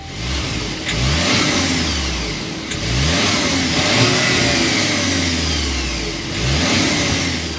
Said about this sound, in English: start up this new turbocharged so you can hear that exhaust note